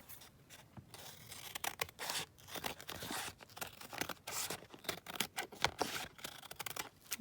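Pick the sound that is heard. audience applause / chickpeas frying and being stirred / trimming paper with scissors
trimming paper with scissors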